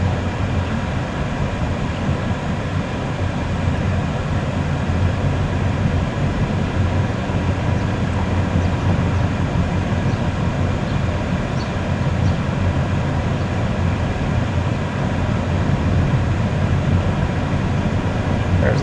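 A southbound Toronto TTC 504 streetcar rolls by on a city street as a steady, continuous rumble of rail and road noise, loud and close, with no one speaking.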